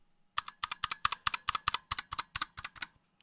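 Keys clack on a Razer Huntsman Mini keyboard, a quick steady run of about fifteen crisp presses after a short quiet start, close to the mic and heard on their own.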